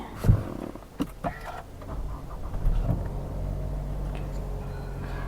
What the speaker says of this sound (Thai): เดี๋ยวขออนุญาตสตาร์ทรถให้ พี่ ๆ ชมกันดีกว่า